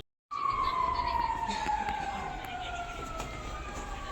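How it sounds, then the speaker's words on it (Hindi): A mosque siren sounding for Eid starts suddenly and holds a steady, slowly falling wail, fairly loud and carrying for about four seconds with no talk. "मस्जिद में जो है ना सायरन बजना स्टार्ट हो गया था ईद के लिए।"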